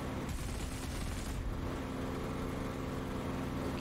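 Spitfire machine guns firing in the DCS flight simulator, a continuous rapid rattle of bursts over a droning aircraft engine, with no talking.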